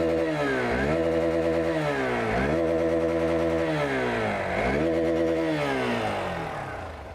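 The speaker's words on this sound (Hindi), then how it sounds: "एक बार इसका एग्जॉस्ट नोट भी सुन लेते हैं," Hero XPulse 200 4V Pro motorcycle exhaust note, a close, loud single-cylinder drone revved up and down in repeated rising and falling blips, fading slightly at the end.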